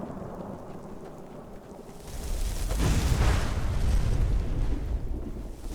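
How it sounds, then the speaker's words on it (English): Rain falls steadily in the Skyrim video game, and a deep roll of thunder swells in partway through and rumbles on beneath the downpour, with no voices. "It is raining."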